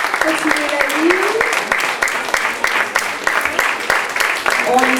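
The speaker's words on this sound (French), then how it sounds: "On les applaudit bien fort, vous saluez les enfants." An audience applauds school children at a show, loud close clapping with individual claps standing out, while an adult voice speaks over it.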